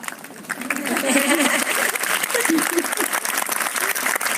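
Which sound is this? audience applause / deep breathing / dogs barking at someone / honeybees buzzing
audience applause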